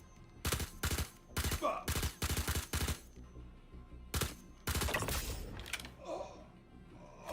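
Rapid bursts of automatic gunfire in the online shooter game Star Citizen, several loud close volleys with short gaps, one long sustained burst, and a brief curse from a player between shots.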